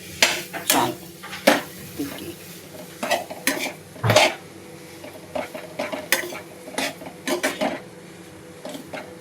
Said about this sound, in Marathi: आता ही सर्व बटाटे मी टाकले आता मी परतून घेते